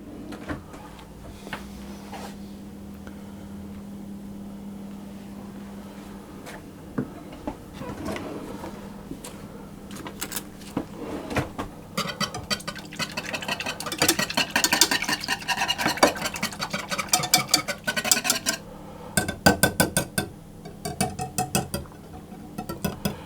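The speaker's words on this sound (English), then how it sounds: "if I give those a little whisk, the seeds will break up a little bit" Seeds whisked in a bowl with a vanilla bean pod for a mango and coconut tart, a thin scratchy clatter of the whisk that grows faster and busier, with kitchen handling noise underneath.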